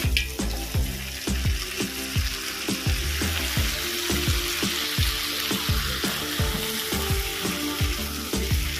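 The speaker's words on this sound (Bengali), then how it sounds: "আমি ভেজে রাখা মাছের মাথাগুলো দিয়ে দেবো" Fried boal fish heads go into a pan of frying spice mix with green chilies, producing a loud, continuous sizzle and a brisk, regular run of scraping stirs, close up, with no voices.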